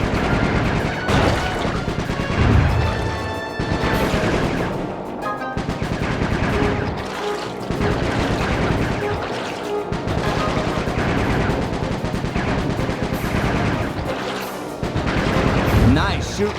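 Dense gunfire from the PS2 game Sly 3: Honor Among Thieves keeps up in steady rattling volleys with crashes and booms, loud throughout, under game music and voices.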